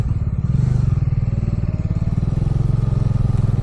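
Steady low engine drone of a motorcycle underway, a rapid even throbbing that holds constant throughout, close and loud with no talking.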